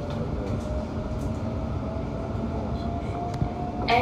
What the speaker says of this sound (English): This is the train to Gospel Oak.